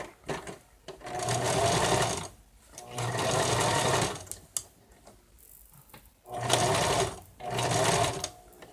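Stitching a stuffed bear part, a sewing machine runs in four close, even whirring bursts of about a second or more each, separated by quieter gaps with light clicks of handling.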